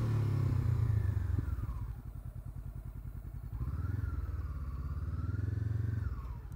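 Honda CBR500R motorcycle engine running steadily while riding, a loud continuous drone that dips briefly and then rises again with the revs; no one speaks.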